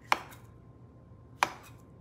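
A knife roughly chopping berries for a trifle on a cutting board, two sharp isolated chops spaced over a second apart, close and crisp against a quiet room.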